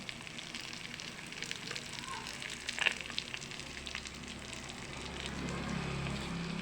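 Fish cooks in a pot over a high flame, giving a steady soft sizzling and bubbling hiss with a brief clatter midway, faint and continuous with no talk.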